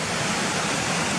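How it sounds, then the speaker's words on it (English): Stream water rushing steadily across a walking path beside a wall on the Gunnerside Gill walk, a close, loud, continuous broadband wash with no pauses. "So this is where the stream comes around the back next to the wall and joins the path here."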